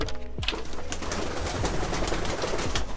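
A flock of pigeons gives low, throaty cooing that repeats close by, layered over a dense, steady background rumble.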